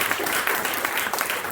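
Audience applause at a Venture Cafe tech and entertainment event, dense steady clapping from a crowd filling the whole moment, fairly loud and close.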